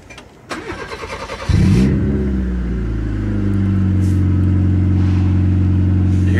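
A car engine cranks briefly, catches, then holds at a loud, steady high rev because of a sticking throttle, droning on without dropping back to idle.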